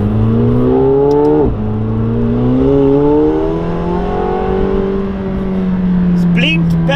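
McLaren 720S fitted with an FI exhaust revs hard on a dyno, its engine note climbing and falling in loud, continuous sweeps with a brief dip before rising again, close and sustained throughout.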